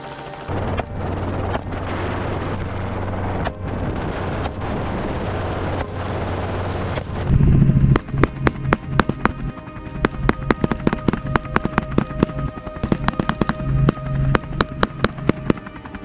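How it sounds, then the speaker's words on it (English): Gunfire during a wild boar hunt: a loud rumbling stretch gives way to a rapid series of sharp, close shots and bangs in quick irregular succession. "we also took advantage of the opportunity and shot down a few more wild boars"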